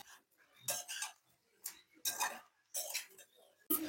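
A spoon stirs coriander powder, cumin powder and garam masala into a prawn and drumstick curry, giving short scraping, clinking strokes in uneven bursts separated by brief pauses, close and fairly quiet.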